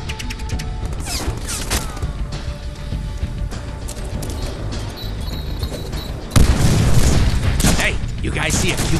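Dense bursts of gunfire from the Deadpool PC game crackle and boom in rapid volleys, with heavier impacts surging loudly near the end, while a character's voice talks over the shooting.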